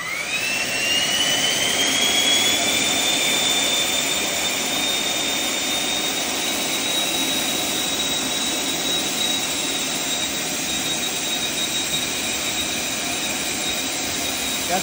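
An engine runs at about 40% throttle with a loud, steady turbine-like roar and a high whine that climbs briefly and then holds, close and continuous with no talking.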